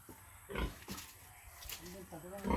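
Several short, deep pig grunts close by, irregularly spaced, with a person talking between them.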